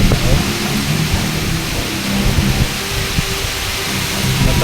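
A typhoon lashes Occidental Mindoro with heavy rain and wind, making a loud, steady roar of broadband noise and rushing wind that continues without a break.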